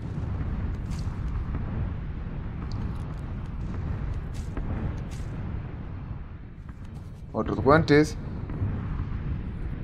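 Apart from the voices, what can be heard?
bombardment explosions in PUBG video game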